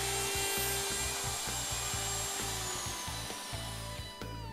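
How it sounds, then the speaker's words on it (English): A router cuts grooves straight in and out through a template opening on a board and into the beam of a Leigh B975 box joint and beehive jig, giving a steady close whine with rhythmic plunging cuts throughout. "Routing is then done straight in and out of each template opening, through the board and into the beam"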